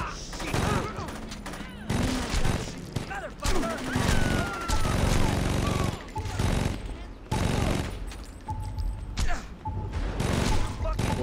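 Saints Row 2 gunfire crackles in repeated bursts and rapid volleys, loud and close, broken by brief pauses, while a player talks over the shooting.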